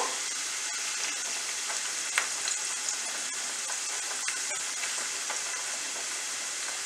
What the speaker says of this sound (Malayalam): അതിലോട്ട് പിന്നെ പച്ചമുളക് ഇട്ടു പിന്നെ ജിഞ്ചർ ഗാർലിക് പേസ്റ്റ് ഇടുവാണ്